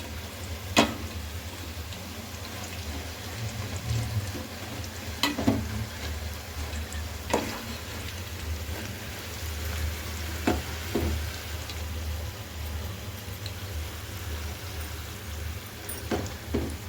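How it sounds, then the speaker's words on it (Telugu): Maida pindi chips fry in hot oil with a continuous soft sizzle and bubbling, close by, punctuated by occasional sharp clicks and scrapes of stirring at irregular intervals. "వేసుకున్నాక ఇది గోల్డెన్ బ్రౌన్ వచ్చేదాకా వేపుకోవాలి."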